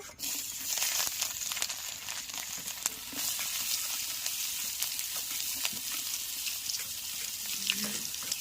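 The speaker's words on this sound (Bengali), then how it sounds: "পেঁয়াজ রসুনটা ভেজে নেব।" Onion and garlic frying together in hot oil in a pan after fish was fried, a continuous close sizzle with occasional stirring clicks and soft clatter, no talk.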